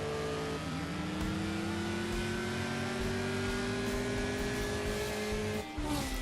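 A game car engine from CSR2 Live Racing revs steadily with a rising, sustained tone, then drops and shifts briefly near the end; it is loud and continuous with no voices over it.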